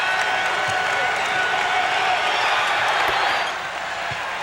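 A basketball arena crowd at an Orlando Magic versus Detroit Pistons game cheers and applauds in a steady, loud wash of clapping and voices that eases slightly near the end.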